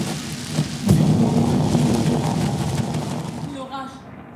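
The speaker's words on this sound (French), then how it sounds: "L'orage." A thunderstorm rolls in with a sharp crack of thunder followed by a long rumble over steady rain, slowly fading toward the end.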